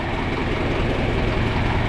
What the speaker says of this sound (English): This is my dad's favorite tractor.